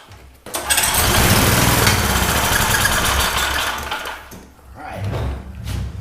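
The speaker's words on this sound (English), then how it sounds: "That means this engine will run and it's making power." A small gasoline generator engine sputters to life after a brief quiet start, then runs loud and steady with a buzzy drone that dips briefly before picking back up.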